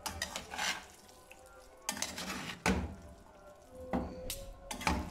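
Noodles stirred in a pan, desi-style cooking, with several clattering bursts of utensil against the pan over a low sizzle, spaced irregularly and close.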